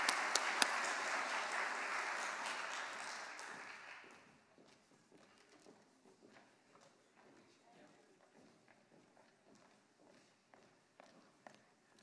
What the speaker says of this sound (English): would you please give a round of a warm applause